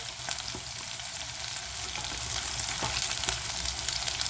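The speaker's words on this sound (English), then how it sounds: "Keep checking on to your frying potatoes in the other pot as well." Potatoes sizzle and crackle steadily in hot oil in a pot, a continuous frying hiss with scattered pops, close by and with no talking.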